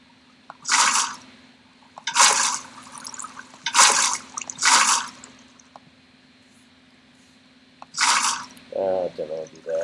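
Water being placed to fill a swimming pool in Minecraft, heard as five separate splashy, rushing bursts about a second long with quiet gaps between, and a short ringing tone near the end.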